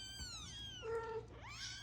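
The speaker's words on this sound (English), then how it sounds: "The kittens were sleeping soundly until Mama Cat came" A mother cat gives a run of drawn-out, rising and falling meows, close and fairly loud, with a longer steady cry in the middle, waking her sleeping kittens.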